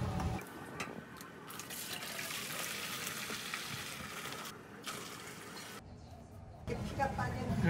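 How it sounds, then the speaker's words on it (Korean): Water streams steadily into a pot of simmering beef bone broth, a continuous splashing fill that briefly pauses near the end, with a voice talking intermittently over it. "이렇게 또 물을 붓고 또 푹 끓여야지"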